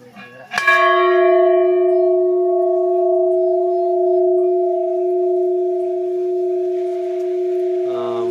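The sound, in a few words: temple bell ringing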